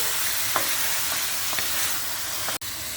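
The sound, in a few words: stirring peeled tomatoes and tomato paste in a pan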